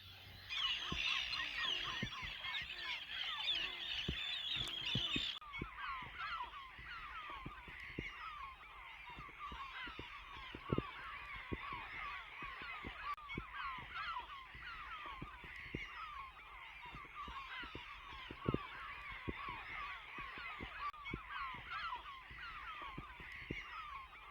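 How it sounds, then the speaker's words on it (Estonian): Seabirds over Paatsalu bay, gulls and terns near their nests, giving repeated harsh honking and squawking calls in overlapping bursts, fairly faint and distant over quiet water, with a louder cluster of calls at the start. "seal on palju linde, tiirud või mis nad seal on, kajakad kraaksuvad"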